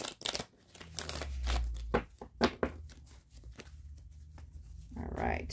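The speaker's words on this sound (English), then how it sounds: "Let's shuffle up these cards again" Tarot cards being shuffled by hand, a string of close, quiet papery riffles and crinkles in uneven bursts with pauses between them.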